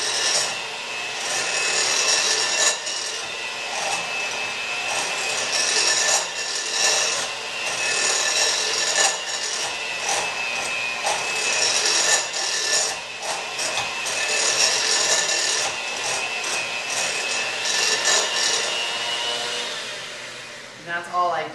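Chocolate mousse cake mixture whipped with an electric mixer, a steady loud whirring and rasping drone that runs continuously with slight wavering in pitch and intensity, no voices over it.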